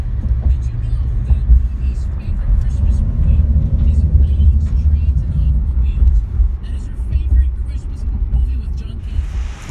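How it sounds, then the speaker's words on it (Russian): A bus pulls up with a loud, continuous low engine rumble that stays close and steady throughout, with faint murmuring in the background. "Вот такой сегодня приехал автобус."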